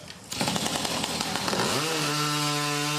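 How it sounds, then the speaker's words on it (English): A chainsaw at a lumberjack timber sports competition in New Brunswick roars loudly and steadily, its engine revving up and settling into a sustained high whine close by, with no talk. "The New Brunswick Lumberjack Competition had chainsaws buzzing, axes flying, and athletes trying their best to keep their balance"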